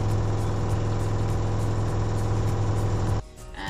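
An LG AiDD F4WV309S4E 9kg 1400rpm washing machine spins unbalanced, with a loud, steady low droning hum and rattle from its suspension that cuts off abruptly near the end.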